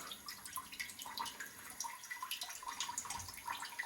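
A bidet toilet seat's water spray comes on after its knob is slowly turned, giving a soft, steady hiss with light splashing and dripping throughout a few seconds.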